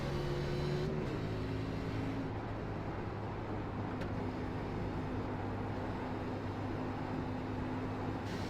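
A race car lapping in a racing video game, heard as a steady, loud engine drone whose pitch shifts in the first couple of seconds and then holds level throughout, with no talking.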